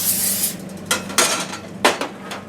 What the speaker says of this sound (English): Spray our skillet